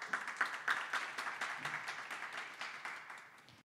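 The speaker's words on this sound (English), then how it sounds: "Let's give a big applause to them for the inspiring discussion." Audience at a business association event applauding panel speakers after a discussion, a continuous wash of many hands clapping that gradually fades toward the end.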